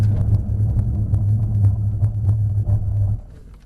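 A Mercedes-Benz C63 Black Series brakes hard from 70 with a loud, steady low rumble from inside the car that drops away abruptly as it stops, no voices.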